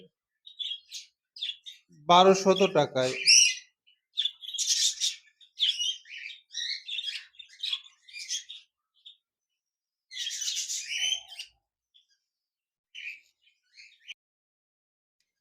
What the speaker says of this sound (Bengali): এখানে দেখতে পাচ্ছেন এক জোড়া বাজরিগার পাখি রয়েছে